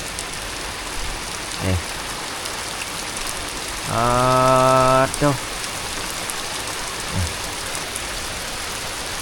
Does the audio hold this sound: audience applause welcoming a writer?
no